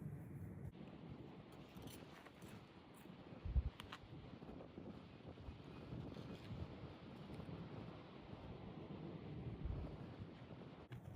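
Steady wind buffeting outdoors on a windy day by the water at a trout fishing and cooking spot, a constant rushing roar on the microphone with a couple of brief thumps and no voices.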